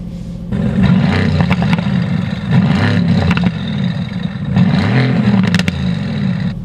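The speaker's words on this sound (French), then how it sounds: "Et maintenant, on libère l'échappement." A loud Mercedes-AMG GT C engine revs repeatedly with its exhaust opened, in rising and falling surges, rough and throaty, with no voices over it.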